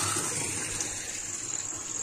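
Water from a motor pump pours steadily in a continuous rushing, splashing stream, close and even, with no pauses or voices.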